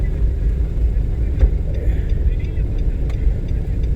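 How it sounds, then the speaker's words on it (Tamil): Driving school car pulling away, a close low engine rumble and road noise running steadily throughout, with faint voices under it. "வண்டி எடுக்கிறோம்"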